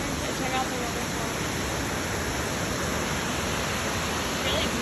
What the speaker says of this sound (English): So check out the waterfall.